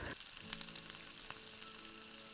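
Ginger and onion sauté in hot oil in a pan for sinigang, a steady close crackling sizzle with a few sharper pops and stirring scrapes, fairly quiet and with no talking.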